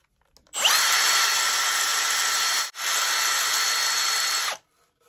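A flap wheel sanding disc on a power tool spins up loud and close, a steady abrasive whine running for about two seconds, cutting out briefly, then resuming for nearly two more before stopping.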